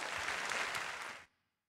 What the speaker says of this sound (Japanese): さあ勝利したシャモケン選手に大きな拍手をお願いします